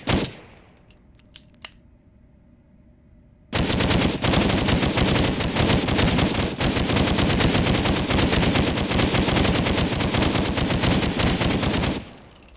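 Sustained automatic fire from a drum-fed gun in the video game Ab Aeterno, a loud dense continuous stream of shots running about eight seconds after a few quiet clicks, then cutting off abruptly.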